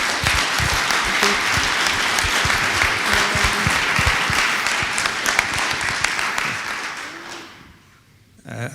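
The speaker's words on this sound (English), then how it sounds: "So I think they deserve a clap." Conference attendees at a European subsea cables association gathering give a full round of applause, dense and steady clapping that gradually fades out, followed by a brief hush.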